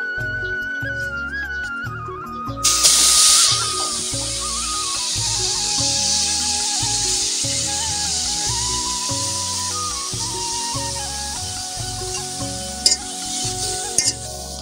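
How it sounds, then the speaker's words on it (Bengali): Coriander leaves frying in a pan for a Bangladeshi bhorta, giving a loud, steady sizzle with occasional stirring scrapes, heard close and continuous over background music. "এখন আমরা ধনিয়া পাতাগুলো ভেজে নেব।"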